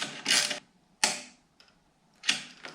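Husqvarna 701 slip-on muffler clamp being snugged down: three separate bursts of ratcheting and clicking, each a short run of quick mechanical ticks fading out, close by with quiet gaps between.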